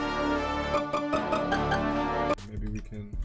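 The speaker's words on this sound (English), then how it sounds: "so like maybe a little organ. Alright, so I found this Majesty thing." Sustained organ synth preset named Majesty playing full chords within a hard beat, loud and close, with thumping low hits and a sudden change in the chord and rhythm partway through.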